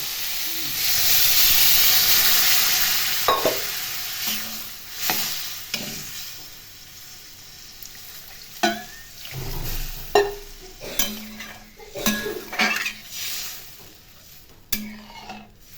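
Water poured into a pan of sizzling fried spice paste for a rohu fish curry with potato and eggplant, a loud hissing burst of steam that fades, followed by intermittent stirring scrapes and clinks against the pan.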